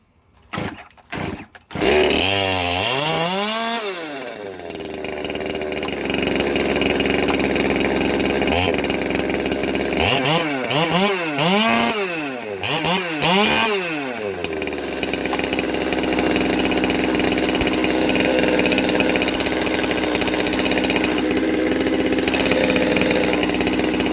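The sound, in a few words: Farmertec MS200T chainsaw engine running at high idle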